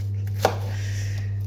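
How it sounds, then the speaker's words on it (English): A knife roughly chopping an onion for salsa lands a single sharp strike on the board, brief and close, over a steady low kitchen hum. "just roughly chopping the onion"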